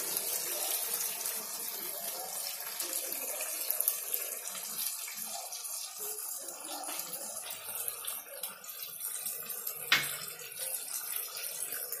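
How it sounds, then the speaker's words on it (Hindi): Water from two bowls pours steadily into roasted chicken in a cooking pot, giving a continuous splashing gush that runs the whole time, close and fairly loud, with one sharper splash near the end. "अब मैं इसमें ऐड करूंगी दो बोल पानी"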